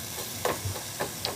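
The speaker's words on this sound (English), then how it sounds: "Oh, you can hear that sizzle." Soft sizzling and crackling from food frying, a quiet steady hiss with a few small pops and taps.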